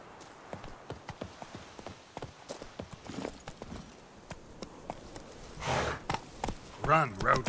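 Roach, a horse in the video game Witcher 3, gallops in quick, steady clip-clop hoofbeats under ambient game sound, with a louder burst near the end.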